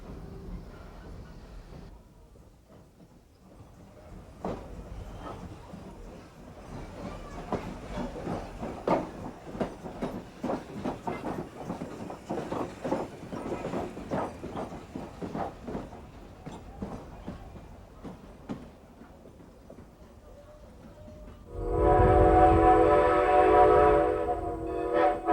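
An Amtrak locomotive rolls slowly around to the far end of its train during a brief stop, steady rumbling with clanking wheel clicks, then a loud sustained horn blast near the end.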